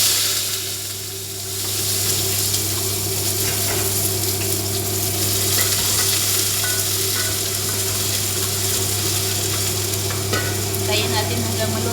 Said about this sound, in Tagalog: Kasi mainit yung ating mantika. Ito na yung ating sibuyas.